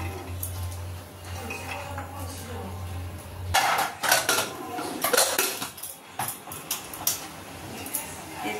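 A pot of chickpeas is set down on a kitchen stove to boil, with metallic clanks and clinks of cookware after a low steady hum, close and moderately loud.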